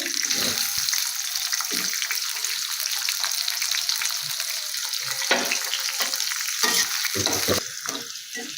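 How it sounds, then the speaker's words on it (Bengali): Loud, continuous sizzling of chopped onion frying in a pan, with occasional scraping stirs and clinks breaking through the hiss. "দিয়ে দিচ্ছি একটু পেঁয়াজ কুচি"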